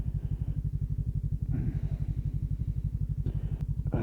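Motorcycle engine idling on a slight incline, a steady, even low thumping pulse that stays close and moderately quiet, with a few faint clicks and small bumps over it.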